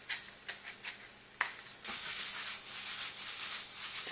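A spoon scraping the bottom of a cooking pot of conch gratin with bananas: several short scrapes, then a sustained sizzling hiss as the utensil drags across the hot base, close and fairly quiet.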